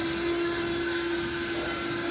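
An air blower blasts dust out of the cab of a 1978 Chevy C10 long bed truck, a loud, continuous close-up roar with a steady whine and no talking.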